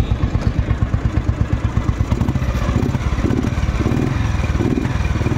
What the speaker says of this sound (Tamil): பாருங்கள் இன்ஜினோட நாய்ஸ் எப்படி இருக்குன்னு சொல்லி